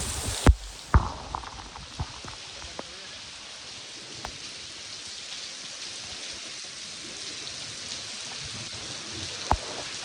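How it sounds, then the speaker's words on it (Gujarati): Steady rain patters down in a dense, even hiss, with a few sharper drops and knocks standing out near the start. "વરસાદ આવ્યો બાકી મસ્ત"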